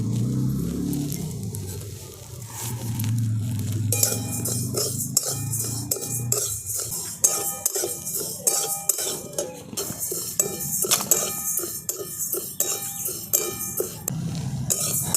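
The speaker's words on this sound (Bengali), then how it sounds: "দেখুন, মুগ ডালগুলোকে আমি খুব ভালো করে ভেজে নিয়েছি" Moong dal dry-roasts in a hot wok, stirred so that metal clinks and scrapes repeat in an irregular rhythm, close and fairly loud, over background music.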